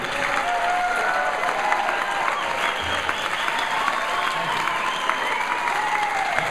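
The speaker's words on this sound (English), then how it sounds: "Don't clap too long or you cut into my time." Sustained applause from a Republican district convention audience in a hall, a dense steady wash of clapping that stays loud and even throughout with no break.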